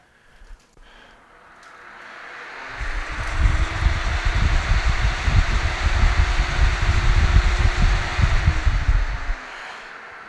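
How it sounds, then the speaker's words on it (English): An IQAir GC MultiGas air purifier's fan spins up into a steady, close whoosh of moving air with a low hum. It runs for several seconds, then winds down near the end. "a good time to demonstrate the sound deadening this machine has, give you an idea how much air it's really moving."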